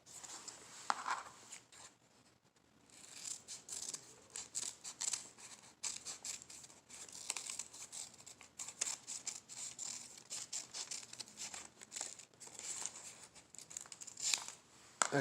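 Scissors cutting out the tail of a paper airplane, a string of close, crisp snips and paper crinkles in an irregular rhythm after a brief pause near the start.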